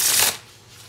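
A brief riffle of playing cards being shuffled, a quick close flutter lasting a fraction of a second before fading to quiet.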